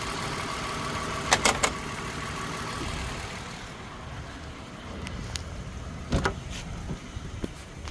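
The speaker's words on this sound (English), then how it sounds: "what I'm gonna do now is I'm gonna shut down the engine" A 2013 Toyota Sienna engine idles quietly and steadily with a few sharp clicks and knocks nearby, then falls quieter as it is shut down.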